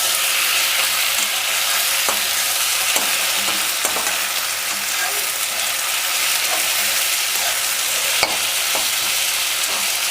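Chopped tomatoes and onion sizzle steadily in hot oil in a pan for mutton curry, with a spoon scraping and stirring at irregular intervals, close and loud.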